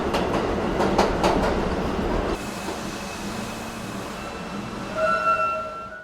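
A subway train rolls into Cheonan station with loud rhythmic clickety-clack from its wheels. The rumble then settles into a smoother, steady hum, and a faint high squeal or chime sounds near the end.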